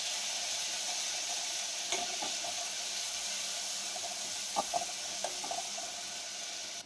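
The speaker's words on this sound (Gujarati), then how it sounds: "હવે આમાં આપણે લસણ આદુની પેસ્ટ નાખી દઈશું. તેને આપણે બરોબર હલાવી લઈશું." Garlic-ginger paste hits hot oil for a mixed dal tadka, giving a steady, close hiss of sizzling with a few soft clicks and stirring taps throughout.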